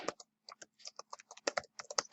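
Rapid computer keyboard typing, a quick run of close, crisp key clicks in uneven bursts, heard alone.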